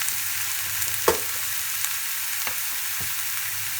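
Drumstick vegetable (sajmain) frying in a pan over low gas for a flaxseed curry, giving a steady close sizzle with a few sharp stirring clicks.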